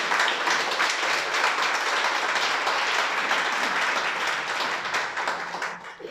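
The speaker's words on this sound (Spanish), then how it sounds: "Un aplauso a él, por favor." A congregation at a Torah teaching session gives steady, dense applause that holds for several seconds at moderate distance before thinning out at the end.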